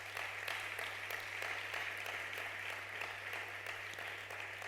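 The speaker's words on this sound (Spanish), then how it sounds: "Dale un fuerte aplauso al rey." A church congregation claps together in a dense, continuous round of applause, fairly quiet and steady throughout, with no voices on top.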